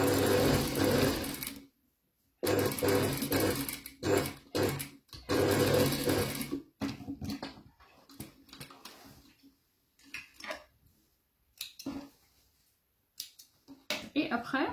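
An industrial sewing machine stitches flat pleats in bursts of loud, close whirring, with gaps and short broken runs between passes, and a person talks briefly in the pauses.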